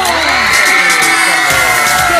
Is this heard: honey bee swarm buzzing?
no